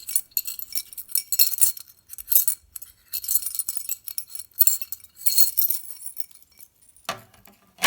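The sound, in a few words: broken glass being manipulated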